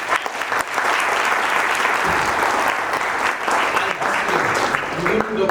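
Audience applause fills a hall at an alumni meet, a dense, steady roar of many hands clapping that starts after a brief lead-in and holds loud and even to the end.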